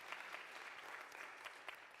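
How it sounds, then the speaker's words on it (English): A congregation at a Flower Communion Sunday service applauds its board members, with faint, steady clapping from a room-filling crowd. "A hand of applause for your board members, please."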